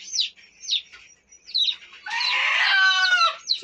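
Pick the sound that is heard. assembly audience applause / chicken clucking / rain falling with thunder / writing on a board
chicken clucking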